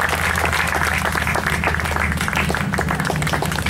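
Sustained applause from a commencement audience honoring standing teachers and parents, steady and dense throughout with a low hum of crowd noise beneath.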